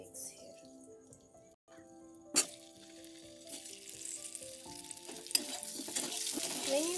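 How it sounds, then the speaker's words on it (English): Marinated eggs dropped into heated oil for a dhaba-style egg curry, with quiet sizzling and frying that swells louder and crackles steadily, a few clinks of utensils, no talk. "let the oil heat a little, and I'm putting the marinated eggs here"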